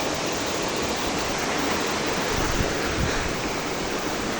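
A monsoon waterfall roars close by in a steady, dense rush of falling water that holds unchanged throughout, with no voices.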